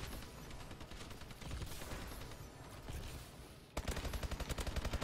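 Rapid automatic fire from an SN6 submachine gun in Call of Duty: Advanced Warfare, a steady fast stream of shots that pauses briefly then resumes in a tighter, punchier burst.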